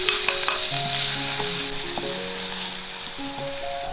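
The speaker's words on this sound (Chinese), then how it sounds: "取个锅，加入少许油，把蒜蓉放进来炒香。" Minced garlic sizzles steadily in a little oil in a wok, a dense, continuous frying hiss that holds for the full stretch with faint tonal sounds in the background and no voices.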